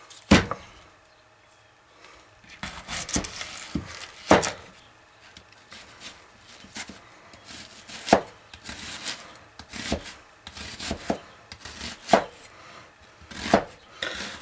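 An onion being chopped on a board for a nacho burger, irregular sharp knife thuds, some in quick pairs, others spaced out, close and with no talking.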